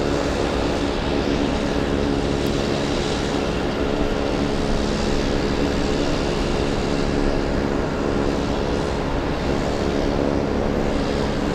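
A loud, steady roar from an airplane's engines at Boston Logan International Airport holds close and constant throughout, with no voices over it.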